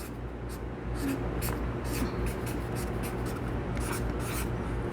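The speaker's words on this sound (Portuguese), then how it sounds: "Vou escrever aqui em cima." A pen scratches across paper by hand in short strokes and scribbles, close and fairly quiet against a low steady room hum.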